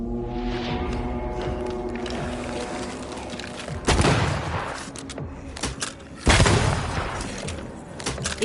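Heavy gunfire in Banishers: Ghosts of New Eden, with two loud booming blasts breaking over a tonal musical backdrop, scattered shots and thumps between them.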